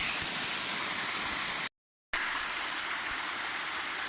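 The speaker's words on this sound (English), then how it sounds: "Yet again, another waterfall on this trek." A waterfall on a trek in Jardin, Antioquia, a loud continuous roar of rushing water, broken by a short gap of silence.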